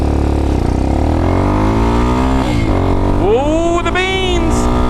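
A motorcycle accelerates hard from near idle, its engine note climbing loud and close, dipping briefly at a shift, then screaming upward again with no talking over it.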